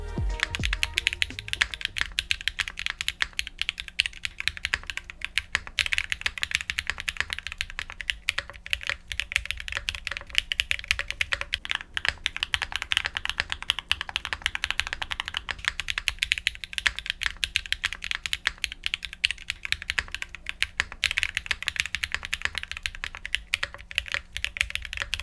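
Continuous typing on a Mode Tempo 60% mechanical keyboard, close and crisp, with rapid clacky keystrokes and short pauses as switch configurations change, no talking.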